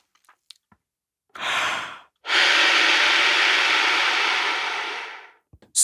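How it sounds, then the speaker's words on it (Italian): A saxophone player draws breath through the lower corners of the mouth, a soft airy intake followed by a longer, louder rushing inhalation of several seconds, close to the microphone, with small clicks around it. "Il terzo modo di prendere aria è aprendo sotto"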